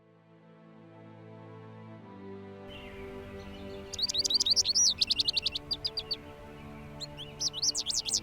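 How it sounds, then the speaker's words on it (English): Backyard birds in a Minnesota winter give rapid runs of bright, repeated chirps. They start midway through over a low steady hum and come in two close bursts. "This year I had about 20 different kinds of birds in my backyard."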